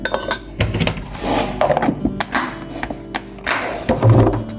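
A large spoon scoops sesame seeds and knocks against a dish, giving several sharp clinks and dull taps at irregular intervals, close and fairly loud.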